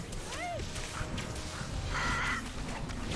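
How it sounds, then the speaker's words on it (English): A bird cries out in the video game Brave, with short rising calls over a steady bed of game music and ambient effects, followed by a brief tonal call later. "And here comes the second bird."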